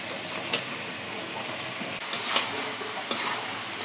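Sponge gourd (dundul) with potato being stirred and fried in a pan, a continuous sizzle with a few sharp scrapes of the spoon against the pan at irregular intervals.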